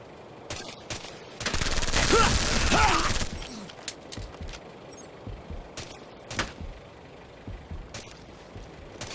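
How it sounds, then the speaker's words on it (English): Heavy automatic gunfire rattles in Ghost Recon Future Soldier, a sustained burst of about two seconds followed by scattered single shots and distant pops, with faint game voices in the background. "Taking heavy fire!"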